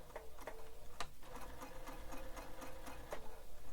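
Sewing machine back stitching across the bottom of the hardware on a bowler bag, a steady quiet hum of fast repeated needle strokes with a few sharper clicks, close and uninterrupted throughout.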